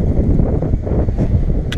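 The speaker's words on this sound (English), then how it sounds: "Very windy." Strong outdoor wind buffets the microphone on a gusty Fourth of July day, a loud, rumbling low roar that surges and dips continuously with no talking.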